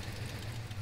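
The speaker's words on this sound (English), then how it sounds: "if I'm revving the motor here" An older car's engine runs steadily up close, a low throbbing rumble with a constant mechanical hum and no pauses.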